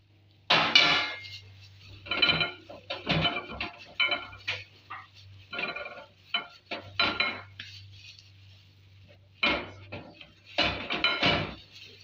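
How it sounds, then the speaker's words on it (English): A utensil clinks and scrapes repeatedly against a bowl while chicken marinade with vegetable oil is mixed, in irregular bursts of close, sharp knocks over a low steady hum, with no talking. "Mix it very well to combine."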